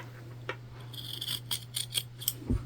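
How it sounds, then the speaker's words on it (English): Scissors snip and trim fabric along a curve while a bag is being sewn, producing a few soft, close cuts over a steady low hum. "We're just trimming right into that curve."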